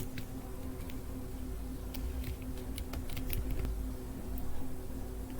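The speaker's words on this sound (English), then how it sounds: "we will just type sudo net discover" Computer keyboard keys tapped in a scattered run of light clicks while a command is entered, close and fairly faint over a steady low hum from the machine.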